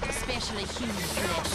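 A helicopter in the game GTA San Andreas, its steady rotor drone and engine buzz continuous and fairly loud, with a voice talking over it.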